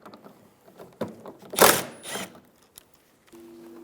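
Ratcheting and clicking of a wrench loosening 10mm bolts on the rear bumper brackets of a 2007-2011 Toyota Camry, short mechanical bursts with one louder rattle in the middle, close up.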